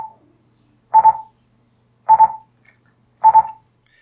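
An INAV flight controller signals it is ready to be thrown with repeating groups of quick double beeps at a steady tone, three evenly spaced bursts, crisp and close against silence.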